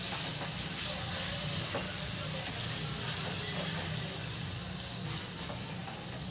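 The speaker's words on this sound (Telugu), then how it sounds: "చికెన్ ఇది వేసేసుకున్నాం ఇందులో వేసి మంచి కలిపేసుకుందామండి" Chicken frying in a pan while being stirred, for a Dhaba-style chicken fry: a steady, close sizzling hiss with faint scraping and stirring movements underneath, continuous and even throughout, with no talk.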